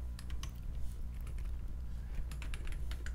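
Rapid, steady clicking of keys as code is typed on a computer keyboard, close and continuous over a low background hum.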